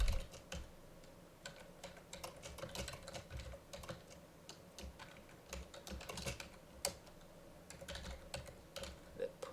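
Code typed on a computer keyboard: quiet, close, irregular bursts of key clicks with brief pauses between runs, alone without talking.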